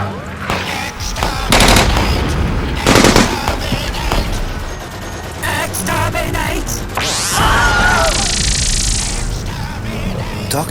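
Dalek weapons fire in a Doctor Who fan audio drama battle, loud bursts of rapid gunfire-like blasts and booms with a rising electronic sweep, dense and close throughout.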